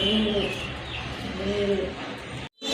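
A khaki pigeon, a female with feathered feet, coos softly amid other pigeons at a pigeon sale, a few low murmuring calls over steady background noise with a voice nearby.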